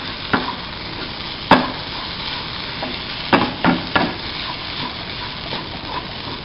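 Coconut ground with turmeric, green chilli and onion being stirred into fish frying in a pan, with a steady sizzle under scattered scraping strokes of the spoon, close and moderately loud.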